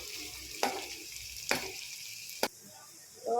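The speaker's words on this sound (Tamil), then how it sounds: "நல்லா சிம்மில் வச்சு நல்லா வதக்கிக்கணும்." Vegetables sautéing over low heat in a pan for a vegetarian fish curry: a soft, steady sizzle broken by three sharp clinks of stirring, quieter toward the end.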